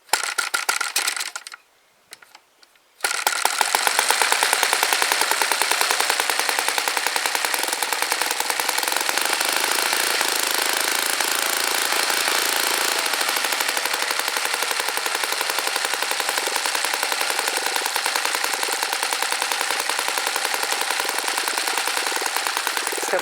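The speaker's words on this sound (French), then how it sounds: "C'est un moteur qui vibre énormément." An NGH 38cc four-stroke petrol engine fires up after a brief sputter and runs at a steady, loud idle, with a rapid, rattling, vibrating drone that holds unbroken to the end.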